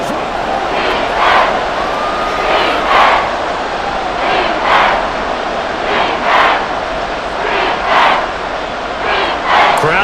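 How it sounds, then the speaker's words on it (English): A stadium crowd in a Madden NFL 24 football game between the Cleveland Browns and Seattle Seahawks roars steadily, with repeated swelling waves of cheering across the whole stretch. "Crowd getting in it a bit already."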